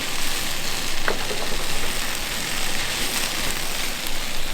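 Garlic scapes and fresh greens stir-fry in an uncovered pan during farm cooking, producing a constant close sizzle with faint stirring clicks and no voices.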